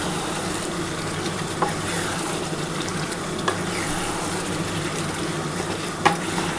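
Chicken kosha being stir-fried in a pan, with a steady close sizzle and hiss running throughout and occasional soft scrapes or taps of a spatula against the pan.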